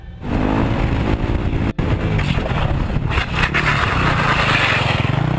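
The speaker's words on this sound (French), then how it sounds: "Tu te mets sur la moto, t'accélères à fond" A motorcycle engine roars loudly and continuously at full throttle, rough and gritty, with a brief cut-out near the start.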